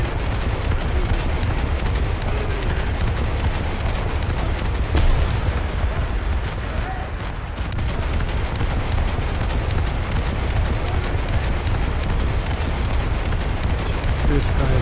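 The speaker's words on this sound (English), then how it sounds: "All we have to do is just shoot back." Continuous loud gunfire and explosions from a naval battle video game, dense bursts of shots and booms running throughout without pause, with a player's voice faintly in the mix.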